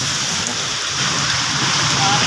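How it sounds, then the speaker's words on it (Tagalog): Heavy rain pours steadily with a dense hiss, wind roaring underneath, loud and close, no talking. "ang lakas ng hangin tsaka ulan"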